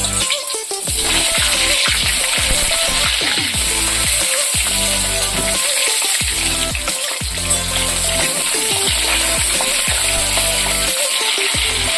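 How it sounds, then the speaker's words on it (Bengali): Chopped pointed gourd (potol) frying in hot white oil in a kadai, a loud continuous sizzle with bubbling crackle and repeated scraping stirs, close and steady throughout. "ওই তেলের মধ্যে দিয়ে দেব আগে থেকে কেটে রাখা পটলের গুঁড়ো"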